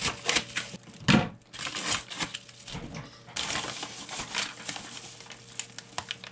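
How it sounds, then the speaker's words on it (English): Scissors snip and crinkle through a stiff manila envelope in a quiet room, with irregular close-up paper rustles, crunches and several sharp cuts. "If you're ever going to use scissors to open a manila envelope like this"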